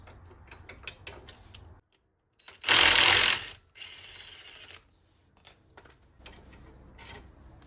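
A spanner works the front suspension nut on a Peugeot 106 with light ratcheting clicks, broken by one loud, harsh mechanical burst lasting about a second, then more scattered clicks.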